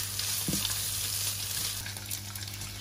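Vegan yaki soba noodles stir-frying in a hot wok with ginger and garlic, giving a steady close sizzle and crackle with occasional stirring clatter, no voices.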